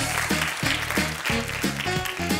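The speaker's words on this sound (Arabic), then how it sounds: "برافو عليك، تصفيقة عليك" A studio audience on a Moroccan television show claps in dense, continuous applause, mixed with a pulsing musical beat and no speech.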